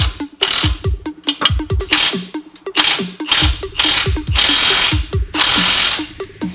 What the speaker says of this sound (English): Now we're going to tighten the bolts underneath